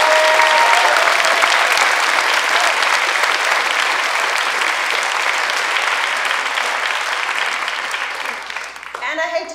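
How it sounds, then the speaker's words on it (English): Enthusiastic audience applause after a panel at a 2018 AI symposium, a loud, sustained roar of clapping hands that stays full for most of its length, then thins and fades near the end. "Can you please give a big round of applause to Kevin?"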